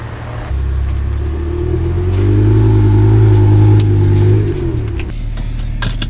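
A BMW M5 E61 Touring V10 engine idles, then revs up into a deep, loud rising roar as the exhaust flap opens, holds and falls back, followed by a few clicks.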